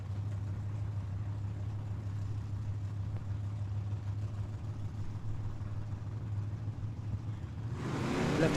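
A Chevrolet Nova drag car rumbles steadily on the strip at a drag racing event, then launches with a sudden loud roar of its engine at the very end.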